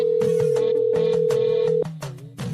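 A phone call ringing tone, a loud steady electronic tone that holds for almost two seconds and then stops, leaving softer intermittent sounds.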